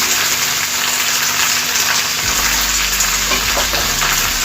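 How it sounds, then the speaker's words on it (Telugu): Curry leaves, dried red chillies and turmeric fry in oil in a pan for tamarind pulihora, giving a steady, loud sizzle that holds throughout without pause or talk. "ఇదంతా కూడా 1 నిమిషం పాటు వేయించుకోవాలి."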